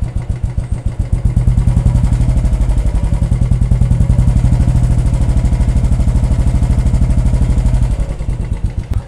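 Royal Enfield motorcycle fitted with an Indori short bottle silencer, ridden at low speed through a residential lane, giving a loud, steady, deep thumping exhaust beat that runs throughout and eases slightly near the end.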